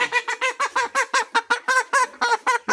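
A chicken squawks loudly and repeatedly up close while being handled for vaccination on a poultry farm, a rapid string of harsh, honking cries with brief gaps between them.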